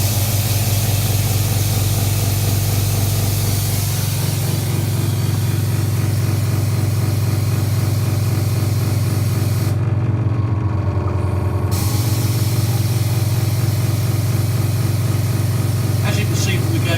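A portable carpet extraction machine's pump sprays through a hand wand at just under 120 psi, a loud steady mechanical drone with a hissing spray that runs continuously, briefly dipping and changing tone mid-way before resuming, with a voice talking over it.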